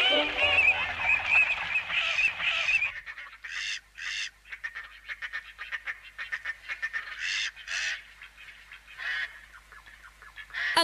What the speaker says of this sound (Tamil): அங்க பாத்தீங்களா, சில பறவைங்க இருக்கு.